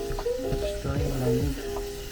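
Meat for chili sizzling in a pot as it is stirred, with a close, moist sizzle under scraping and clinking spoon strokes. A faint voice can be heard in the background.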